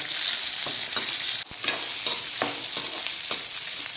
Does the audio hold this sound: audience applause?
no